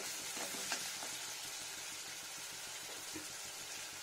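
Ground, roasted spice paste fries in a pan for a vegetarian paneer dish, making a steady, faint hiss and sizzle with a few soft stirring scrapes.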